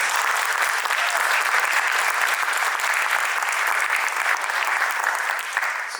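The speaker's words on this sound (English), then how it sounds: "Give another round of applause" Sustained audience applause fills the hall after a Bharatanatyam arangetram dance performance in the Bay Area, a dense, steady clapping from a large crowd that continues evenly throughout and tapers only slightly at the end.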